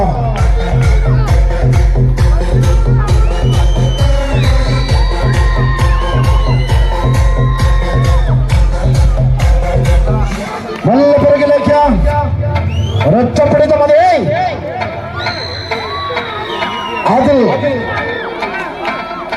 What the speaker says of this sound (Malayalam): നല്ല പിറകിലേക്ക് ആരവങ്ങൾ ഉയരുകയാണ് ആവേശങ്ങൾ നിറയുകയാണ്